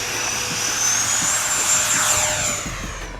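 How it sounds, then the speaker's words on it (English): Twin 70mm electric ducted fans of a Freewing B-2 Spirit RC jet roar steadily and loud overhead in crosswind, with a whining high pitch that gently rises and falls, with no talk. "Here's what it looks like for me on my setup when dealing with crosswinds"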